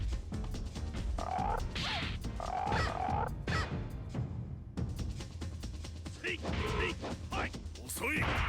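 Croaking frog-like punch sounds from the video game Legend of Legaia come in several short bursts amid combat thuds and clatter, with a voice talking over parts of them.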